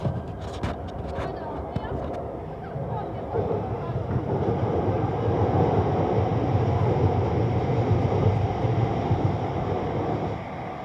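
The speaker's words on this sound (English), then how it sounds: "Next train scheduled to pass here will be a London Overground 378 or 710 to London Euston" A London Overground Class 710 electric train passes at Primrose Hill, a steady broadband rumble of wheels and motors with wind buffeting the microphone, loud and sustained throughout.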